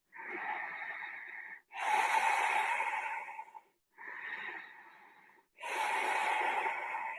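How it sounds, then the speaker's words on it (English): Slow deep breathing during a stretching session, close to the microphone: four long airy breaths alternating between softer inhales and louder, rougher exhales, each lasting over a second with short silent gaps. "3 more breaths"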